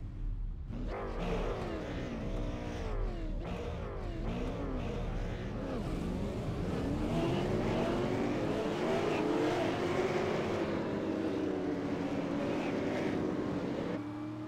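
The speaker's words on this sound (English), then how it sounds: "Field is rolling for this 40-lap last chance qualifier." Race cars rolling on track before an Ice Bowl 40-lap last chance qualifier, a steady loud engine drone with shifting pitch sweeps as the field circles, continuous throughout.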